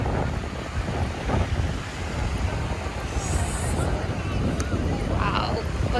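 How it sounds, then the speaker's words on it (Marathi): Steady wind buffets the microphone on Juhu beach in Mumbai, a continuous low roar with faint surf washing underneath, close and fairly loud throughout. "बघा ना किती मस्त हवा सुटले"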